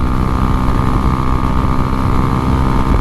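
Husqvarna Svartpilen 401 motorcycle engine pulling steadily in sixth gear, a loud, continuous close-up drone with wind rush mixed in, no talking.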